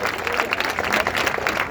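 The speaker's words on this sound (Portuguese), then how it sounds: "dê uma salva de palmas para o nosso Senhor e Salvador Jesus Cristo" Church congregation clapping together during a worship service, a dense burst of applause filling the room from start to finish.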